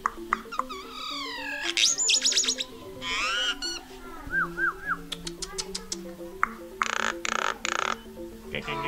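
A bird calls in a string of varied whistles, warbles and squawks, some sounding like imitated tones and chirps, close and fairly loud.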